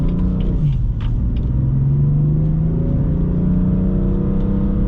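A 2018 BMW M4 Convertible Competition with a DCT gearbox under way, its engine and exhaust giving a steady, close low rumble with a rising drone and a quick shift, heard from the cabin without talk.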